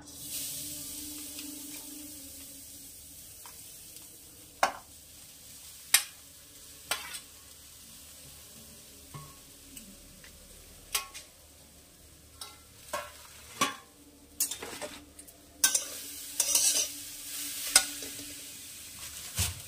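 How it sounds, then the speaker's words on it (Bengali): Grated coconut stirred in a kadai on a gas stove for dudh puli pitha, with a soft hiss underneath and a spatula scraping and tapping in irregular strokes that grow busier toward the end, close and with no talk. "আমি গ্যাসে কড়াই বসিয়ে দিয়েছি,"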